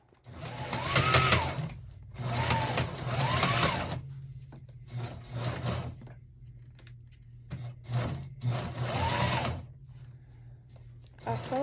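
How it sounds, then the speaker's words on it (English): Sewing machine stitching a leather double-zippered pistol case, running in several separate bursts of steady mechanical whirring with short pauses between runs. "that way I can sew them all at once"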